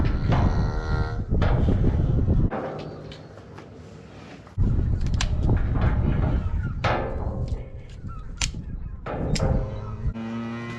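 Cattle in a farm chute give loud, drawn-out moos, several calls in succession, mixed with thuds and clanks of metal gates and equipment nearby.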